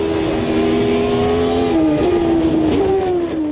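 Race car engines heard from outside in Automobilista 2, a loud, steady close engine drone with pitch gliding up and down as the cars shift and hold revs alongside.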